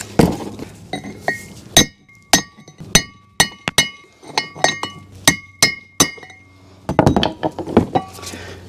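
Old bearing races are hammered out of a brake rotor on a 2008 Ford Ranger, a series of sharp ringing metallic strikes at an uneven pace, close and bright, ending in a quick cluster of clinks as the race comes loose.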